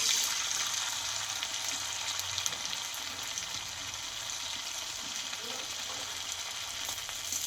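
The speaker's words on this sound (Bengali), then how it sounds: "এটা কিন্তু আমি অল্প তেলে টিফিনটা ভেজে নেবো" Potato and rice flour snack frying in a little hot oil in a kadai, a soft, even sizzle crackling steadily at low level for several seconds.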